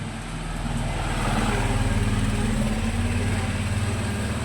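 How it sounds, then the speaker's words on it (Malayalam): A steady auto-rickshaw engine drones at close range for the whole stretch, a buzzing motor rumble that slowly builds and holds as it approaches in the rain, with no voices over it. "ഇതാ ഒരു ഓട്ടോച്ച വരുന്നുണ്ട്."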